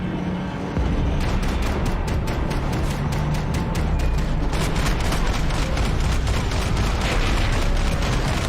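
Heavy gunfire crackles in the Max Payne 3 video game, a dense, rapid fusillade of shots that starts abruptly after a brief lull and keeps hammering steadily, with shouting voices buried underneath.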